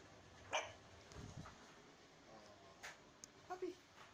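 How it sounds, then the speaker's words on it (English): Small shih tzu dogs give a few short, sharp yips and barks, one near burst early and a quick cluster later, amid quiet room noise with faint talk. "I'm being eaten alive by little shih tzus"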